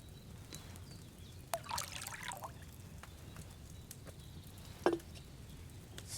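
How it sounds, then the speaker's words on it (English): Wine poured into a cauldron in Kingdom Come Deliverance II, a faint trickle and splash over a low background with a couple of soft knocks and clinks. "First, you have to pour the right base into the cauldron."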